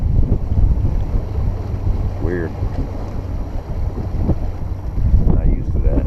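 A Mercury outboard boat engine runs during break-in as a low, steady rumble that stays under wind noise and open-water ambience, with someone briefly speaking over it.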